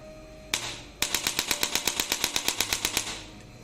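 A chiropractic adjuster gun rated at 1100N, set to its third mode at power level 13, fires a fast, steady run of sharp mechanical clacks, loud and close, after a brief opening burst.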